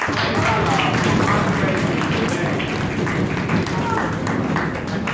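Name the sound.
audience applause for the debate teams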